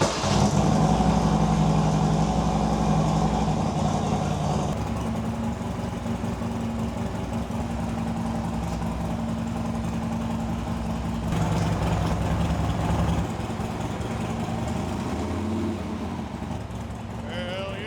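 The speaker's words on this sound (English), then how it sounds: "now we're gonna turn the bike on and see if everything worked" A 2016 Harley Dyna motorcycle engine runs at a steady, loud idle throughout, a low rumbling drone with slight shifts in pitch and level, with no voices.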